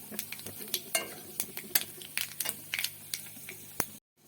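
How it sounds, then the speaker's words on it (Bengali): Nigella seeds and dried red chilli frying in hot oil, a close, moderately quiet sizzle broken by frequent sharp clicks of a spoon stirring against the pan, cutting off abruptly near the end. "শুকনো লঙ্কাটা একটু ভাজা ভাজা হলে আমি দিয়ে দেবো এক চামচ কালো জিরে কালো জিরেটা হালকা করে ভেজে নেব"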